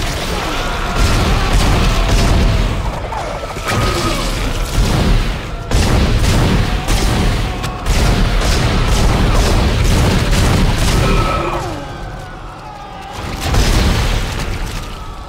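Weapon fire in the sci-fi survival horror game Dead Space, a loud barrage of booming shots and bursts that keeps going through most of the stretch before dipping briefly and then returning.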